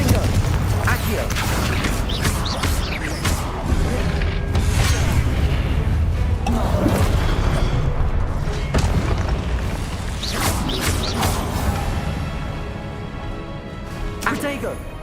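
A Confringo explosive spell blasts in Hogwarts Legacy, a loud booming burst layered over dense game effects, music and mechanical clatter with continuous speech throughout.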